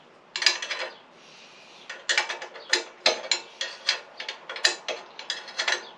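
A ratchet wrench clicks through a series of short, crisp turns, close by and sharp, with brief pauses between the bursts of rapid metallic ticking while work goes on around a mower.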